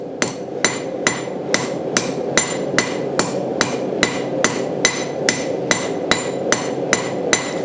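Hammer striking a Vevor anvil mounted on a stand built to keep it quiet: a steady run of around eighteen crisp, evenly spaced metallic strikes, close up, over a low continuous rumble, with no one talking.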